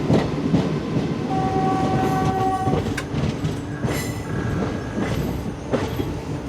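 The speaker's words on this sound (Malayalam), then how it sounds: "കന്യാകുമാരിയിൽ നിന്ന് ദിബ്രുഗഡിലേക്ക് പോകുന്ന വിവേക് എക്സ്പ്രസ് ആണ് ഈ ഓപ്പോസിറ്റ് ലൈനിൽ പുറത്തോട്ട് ഇറങ്ങുന്നത്" Vivek Express, running from Kanyakumari to Dibrugarh, passes on the opposite line, heard from inside a moving Indian train: a loud steady rumble with clattering wheels and a sustained horn tone partway through.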